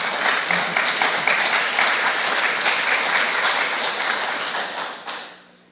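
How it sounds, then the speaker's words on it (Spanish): Audience at an evening church conference applauding their pastor, a dense, steady wash of many hands clapping for over five seconds before fading out quickly at the end. "Nuevamente voy a pedir que podamos aplaudir a nuestro pastor por la exponencia de esta noche."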